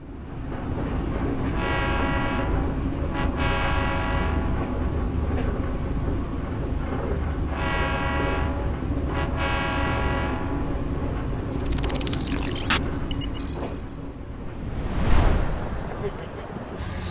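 A train arrives at Madinah railway station, a low steady rumble under two drawn-out horn blasts. A voice talks faintly in the background, and rattling and clatter follow near the end.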